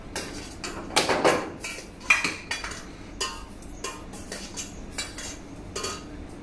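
Cutlery and pans clink and scrape as curry is served from the pan beside jasmine rice, with several distinct metallic knocks and clatters that start loud and then settle into lighter, evenly spaced taps.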